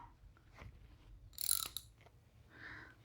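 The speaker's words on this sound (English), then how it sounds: "So I have a ratchet with a 10mm socket" A ratchet with a 10mm socket clicks faintly while loosening bolts on a Sunjoe scarifier dethatcher, a quick burst of close metallic ratcheting amid soft handling noises.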